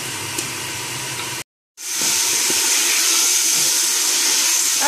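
Mutton chops frying in hot oil with masala in a home kitchen, a steady loud sizzle and hiss that cuts out briefly, then returns stronger as the chops go in.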